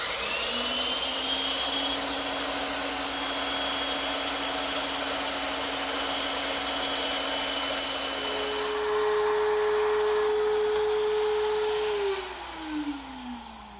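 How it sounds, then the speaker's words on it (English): Router table fitted with a 1/4-inch roundover bit rounding the edges of wooden wedge stock, a loud steady high whine that shifts pitch under load and winds down at the end, with no talking. "I'm just using a 1/4-inch rounding over bit in my router table."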